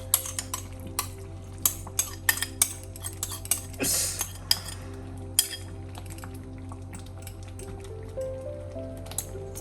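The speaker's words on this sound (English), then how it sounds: "Mash up the pork into small pieces using either a fork or a spoon." Metal fork or spoon clinking against a pot while mashing cooked lean pork in congee, a series of close, light taps and scrapes with soft wet squishing over a steady low hum.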